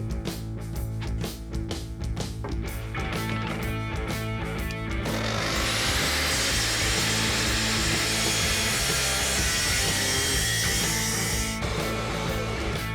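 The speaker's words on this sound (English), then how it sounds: "Take it over to the track saw." A track saw cuts through a wooden board for a bathroom backboard, starting with a few scraping and knocking sounds before the motor spins up into a loud, sustained whining cut that runs steadily for several seconds and then stops.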